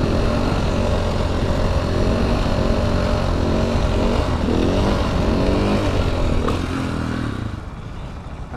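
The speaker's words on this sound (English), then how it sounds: "Little second gear wheelie." A motorcycle in a parking lot pulls a second-gear wheelie, its engine roaring loud and close with rising revs, then the sound drops off sharply near the end.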